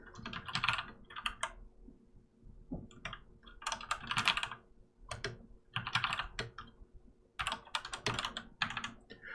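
Bursts of rapid clicking keystrokes on a computer keyboard while programming code, near and clear, with short pauses between flurries and no talking.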